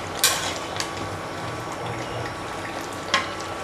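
Mutton bhuna cooking in a pan with cumin and garam masala paste, a soft steady sizzle with a few sharp scrapes or clinks of a utensil against the pan.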